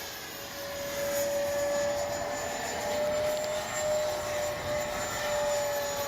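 A Freewing 90mm F-4 Phantom II RC jet in flight, its ducted-fan whine holding steady and loud throughout, with a sustained high tone and broad rushing noise and no voices.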